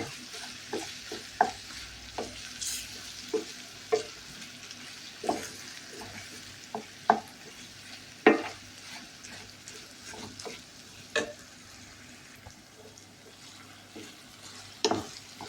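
Sambusa meat filling fries in a pan while a spoon stirs it, producing a soft steady sizzle broken by repeated scraping knocks at an irregular, unhurried rhythm, close up and without speech.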